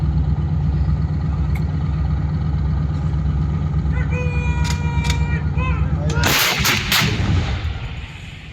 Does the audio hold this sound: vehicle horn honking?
no